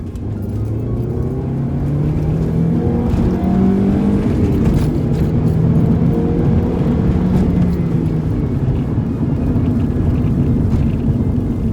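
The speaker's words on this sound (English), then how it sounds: "Let you guys see what a like pristine Sentra pulls like." A Nissan Sentra with a 2.5 liter engine accelerates in second gear from about 25 miles an hour, its engine note rising steadily in a loud, continuous rumble heard from inside the car with no talk.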